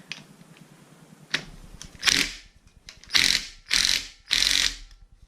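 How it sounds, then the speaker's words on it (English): Impact wrench driving a bolt home during a Mazda RX-8 engine rebuild: four loud, close, ratcheting bursts in quick succession, each lasting about half a second, with no talking. "Now I don't know the torque specs for this. I'm just gonna hit it with the impact."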